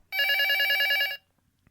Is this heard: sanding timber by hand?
no